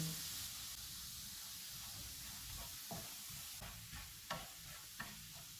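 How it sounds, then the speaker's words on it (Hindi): A tablespoon of maida flour fried over low heat in a pan for butter garlic chicken, giving a soft, continuous hiss and sizzle with a few light stirring scrapes toward the end, quiet and close. "एक टेबलस्पून मैदा डालेंगे, इसको 1 से 2 मिनट तक भूनेंगे"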